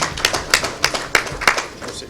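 Delegates at an extraordinary general assembly clap in a sparse, uneven rhythm, about eight distinct claps, close and moderately loud.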